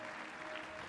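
A stadium crowd at a Balkan Athletics Championships meet in Volos claps steadily for a triple jumper, a dense even wash of applause throughout the brief moment.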